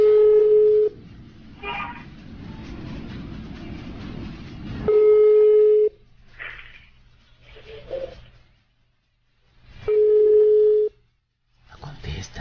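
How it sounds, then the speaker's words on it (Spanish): A mobile phone dials a home number: a steady dial tone cuts in three times in long bursts, separated by quieter stretches of ringing or keypad tones, with people talking in between. "A ver, este es el celular. Le vamos a estar marcando a la casa."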